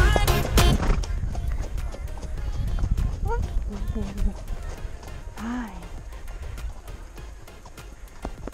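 A winter-shod horse trots around a riding arena. Its hoofbeats fall in a steady, moderately close rhythm, with voices talking over them.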